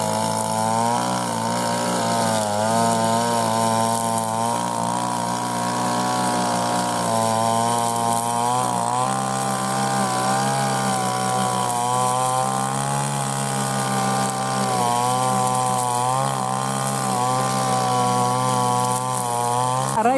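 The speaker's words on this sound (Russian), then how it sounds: "Раиса Ивановна что, начала косить, и здесь больше съемки вести как бы, ну, почти невозможно. Шум пилы очень громкий." A petrol grass trimmer mows in a village garden plot at the end of August, its engine droning loudly and steadily the whole time, pitch wavering slightly as it works through the grass.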